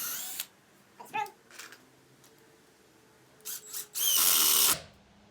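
A power drill bores a hole in wood while a farmhouse coffee table is being built, with a few brief bursts followed by one loud, sustained run near the end.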